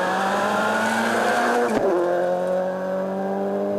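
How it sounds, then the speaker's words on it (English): An older Subaru rally car, the number 4 car, drives hard on a rally stage, its engine droning steadily and close for several seconds with a brief tire squeal midway. "indicator going in the much older Subaru"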